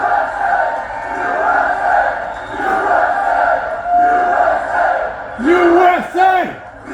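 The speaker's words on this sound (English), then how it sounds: "That's a big crowd. Listen to that." Large political rally crowd in Derry, New Hampshire roaring and cheering, a sustained loud wall of voices with shouted chants rising and falling, and a few whoops standing out near the end.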